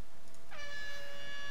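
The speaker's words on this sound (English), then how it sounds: "My favorite sound is the air horn." A single loud, brassy air horn blast starts suddenly and holds steady for about a second before cutting off.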